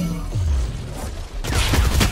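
Gunfire from the tactical shooter game Valorant: a low rumbling shot is followed by a dense burst of rapid shots near the end, loud and close, with no speech.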